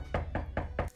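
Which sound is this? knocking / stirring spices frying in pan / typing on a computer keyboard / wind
knocking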